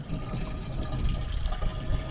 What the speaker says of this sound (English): Now we're going to put some of this fresh mountain water in there.